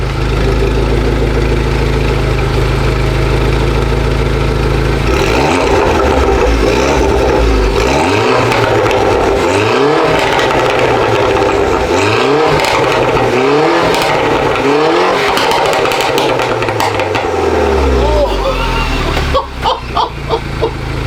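A warmed-up Mini Cooper R56 JCW with a decat exhaust idles loudly nearby, then is blipped through a rapid run of rising and falling revs, ending in a few sharp pops and bangs.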